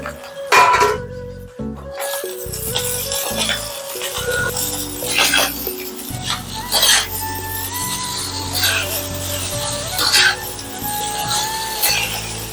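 Chicken noodles are stirred and tossed in a metal pan. A spoon clatters and scrapes against the pan again and again in an uneven rhythm, loud and close, with a few heavier knocks.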